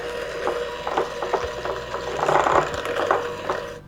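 Banana, egg and vanilla batter being mixed in a bowl, a wet sloshing texture with repeated soft rhythmic strokes and clicks, moderately quiet and without talk.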